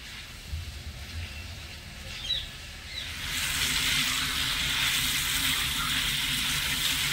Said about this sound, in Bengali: সমানে নেড়ে ছেড়ে আমটা কষিয়ে নেব একটু সেদ্ধ হওয়া পর্যন্ত।